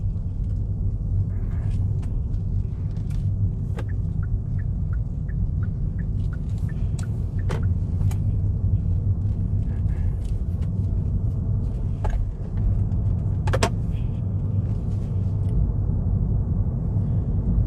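A Hyundai Ioniq 28 kWh electric car cruising at a gentle pace on a Norwegian road, with a steady low tire and road rumble throughout and a few faint clicks and taps from inside the cabin.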